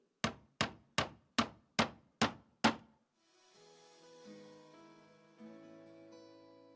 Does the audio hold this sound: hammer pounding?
yes